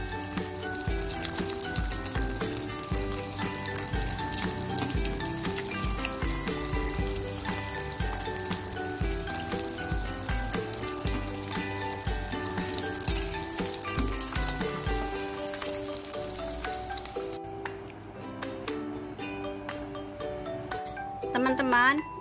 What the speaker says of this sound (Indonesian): Ini tempe saya goreng kering ya.